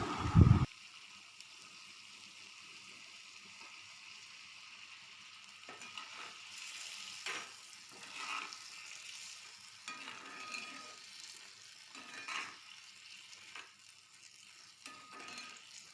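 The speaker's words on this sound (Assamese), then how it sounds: "ভেন্দিখিনি সিজিবলৈ মই অলপ পানী দিছোঁ" Okra simmering in a pan after a little water is added, starting with a short loud hit, then a soft, steady bubbling sizzle with gentle stirring scrapes.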